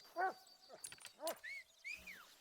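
A dog barks in a hunting video game, a female tracker dog at level 8: a few short, separate barks and yelps, fairly faint, spread across the moment with gaps between them.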